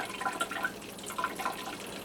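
Water drains out of a reverse osmosis system's storage tank, a close, steady trickling and gurgling with a few brighter splashes rising and falling over two seconds.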